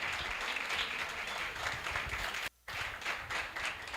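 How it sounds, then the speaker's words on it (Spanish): A room of people claps in sustained, even applause for a doctor after a nutrition lecture, broken by a brief cut to silence before the clapping resumes. "Otro aplauso a la doctora."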